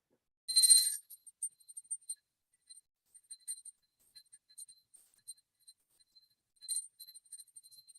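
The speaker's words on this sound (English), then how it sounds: "now I take a bell and offer that 3 times around the chart, offering the element of sound" A small ritual bell rung during a planetary puja, a bright ring at the start followed by soft scattered tinkles and a second ring near the end, close and clear with no talking.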